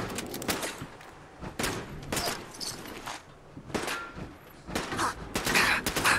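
Gunfire from a recoiling gun in Fallout 4 rings out in repeated loud bursts of sharp shots, separated by short pauses, with a rapid cluster near the end.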